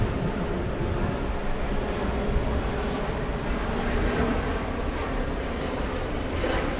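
A Virgin Atlantic airliner at JFK airport gives off a steady, loud engine roar that holds even and broadband for the whole stretch, with no voices over it.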